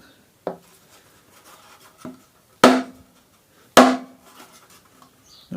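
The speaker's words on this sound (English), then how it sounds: "it just looks like I've hit it with a hammer" A hammer strikes a painted wooden military-style gun box to age it, giving four sharp, separate knocks, two lighter and two heavier, close by with quiet gaps between.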